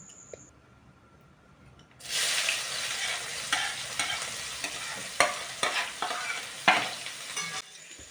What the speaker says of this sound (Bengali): পেঁয়াজটাকেও একটু ভালো মতো নাড়াচাড়া করে